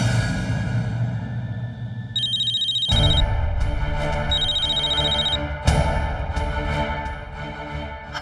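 A telephone ringing late at night in a dramatic TV serial scene, repeated electronic ring tones over a background music bed, clear and close.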